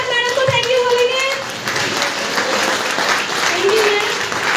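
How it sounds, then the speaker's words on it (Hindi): Audience applause breaks out after a sanitary pad demonstration, steady dense clapping for the presenter with voices talking over and through it. "तो बहुत सारी जोरदार तालियों के साथ मैडम को थैंक यू बोलेंगे"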